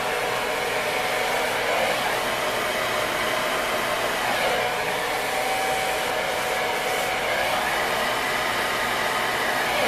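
A handheld hair dryer blows on hair with an unbroken, airy whoosh that stays close and constant, its tone shifting slightly as the airflow moves, with no talking.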